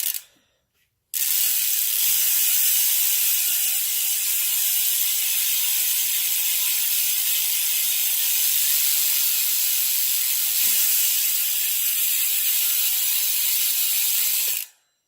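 Freewheel ratchet of a mountain bike rear hub with 148 enduro spacing and a 10-tooth cog, a continuous fast buzzing click like a swarm of hornets, loud and close, running alone for about fourteen seconds.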